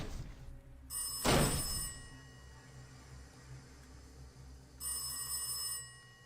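A telephone rings in a horror video game, two bright trilling bursts of electronic ringing separated by a quiet pause, with a low thump near the start of the first ring.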